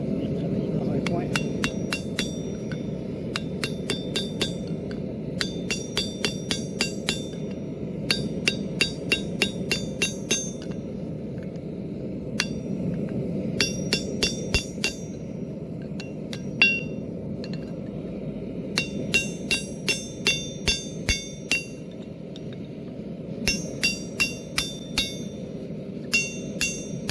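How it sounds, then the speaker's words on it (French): Hammer blows forging a metal bottle opener on the horn of an anvil, ringing in steady bursts of rapid strikes with short pauses between, close and loud over a low background hum. "on va prendre le marteau et travailler dans un coin"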